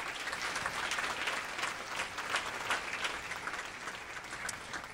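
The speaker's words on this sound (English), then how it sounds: "would you please give a round of applause for all of the people who have made this possible" Sustained applause from a sizable awards ceremony audience, a dense, even wash of clapping heard from a moderate distance without any talking.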